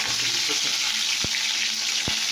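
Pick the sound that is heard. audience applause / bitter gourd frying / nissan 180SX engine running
bitter gourd frying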